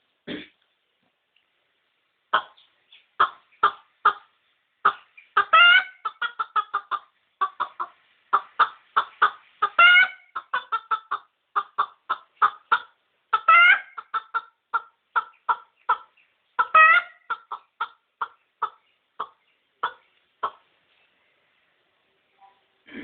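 A human voice imitates a rooster's alarm call: a long series of sharp, clucking bursts in an uneven, urgent rhythm, with brief pauses, close and clear.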